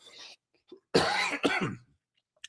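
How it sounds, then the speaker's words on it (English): A single close, loud cough burst with a short follow-up hack, surrounded by quiet gaps and a brief breath before it. "I got this little cough going on here"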